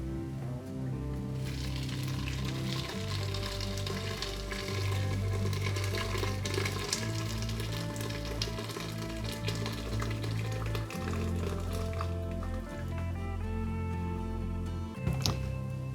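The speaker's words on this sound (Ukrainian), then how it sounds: "Після того, як ми обсмажили м'ясо, буквально 3-5 хвилин, сильно засмажувати його не потрібно, ми додаємо воду." Water poured onto meat frying in a pot for Ukrainian borscht, giving a steady, close sizzle and bubbling that runs throughout over a continuous tonal backing.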